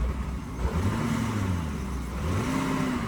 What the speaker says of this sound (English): Give it some revs.